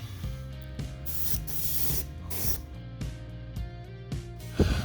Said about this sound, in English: Now we're using UMP Apex airbrush, spraying right at 25 psi.